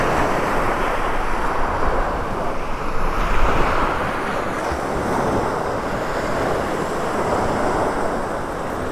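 Ocean waves wash steadily onto a beach in North Naples, Florida, as a continuous broadband roar with gentle swells in level and some wind noise on the microphone, and no voices.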